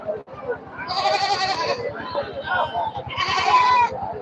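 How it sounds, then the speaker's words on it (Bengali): Goats crowd a large Sunday livestock market, with several loud wavering bleats rising one after another over a rough pulsing hum and general market noise. "শুধু ছাগল আর ছাগল"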